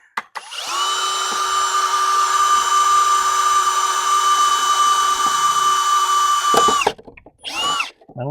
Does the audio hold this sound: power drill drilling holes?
yes